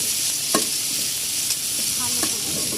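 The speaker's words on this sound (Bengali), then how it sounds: "রসুন, পেঁয়াজ আগে লাল করে ভাজা যাবে" Garlic and onion fry in a pan with a constant close sizzle, punctuated by a few light scraping knocks as the spoon stirs them.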